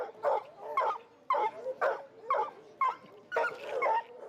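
Coon hunting hounds barking at an outdoor festival coon dog trial in Tahlequah, a rapid series of loud, close, bawling barks and yips in steady bursts with no talk.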